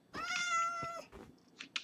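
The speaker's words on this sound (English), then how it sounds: "Another kitty." A video game cat gives one clear, drawn-out meow, followed by a few fainter, brief game sounds.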